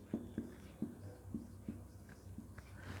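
Pen writing a formula on paper: a series of soft, close scratchy taps and strokes in an uneven rhythm, quiet and without speech.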